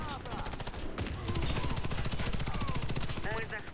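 An FN F2000 rifle fires in the shooter Warface as a sustained rapid automatic burst, loud and close, with game ambience before it starts.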